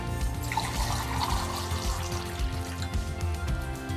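Filtered water running steadily from an under-sink reverse osmosis faucet into a sink, a continuous soft trickle and splash, close and moderately quiet, with no talking.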